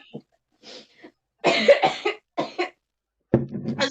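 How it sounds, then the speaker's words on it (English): A person coughs in several harsh bursts separated by short pauses, with a few faint throat sounds early on and a final louder cough bout at the end, heard close up with no speech. "I can't hear you because I'm coughing"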